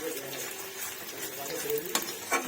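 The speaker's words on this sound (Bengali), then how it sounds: "আর এখানে কিন্তু আমার মশলাটা সুন্দরভাবে কষা হয়ে যাচ্ছে" Spice paste for cauliflower dum is stir-fried in a pan with a steady close sizzle, broken by a sharp spatula scrape near the end and a second brief clink.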